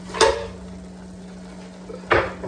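Shredded red cabbage, green cabbage and carrot dumped into a pan, two sharp close clattering impacts about two seconds apart with a quiet steady hum between.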